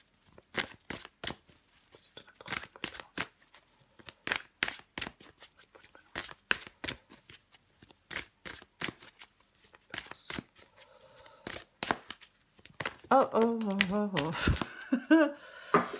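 Tarot cards shuffled and drawn by hand, a quick run of crisp riffling snaps and slaps close by, then a voice speaking and laughing over softer card handling near the end.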